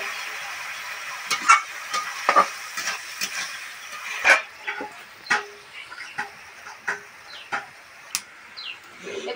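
Broad bean seeds frying in a pan for a bitter gourd dish give a steady low hiss dotted with sharp, scattered pops and crackles, close and moderately loud.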